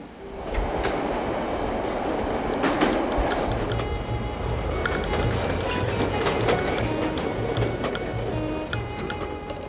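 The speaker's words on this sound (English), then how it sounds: "This is where we catch the Red Line and head south." A Chicago Red Line subway train runs beneath State Street, its loud continuous rumble and rhythmic clickety-clack of wheels on rail joints filling the platform throughout, with no voices heard.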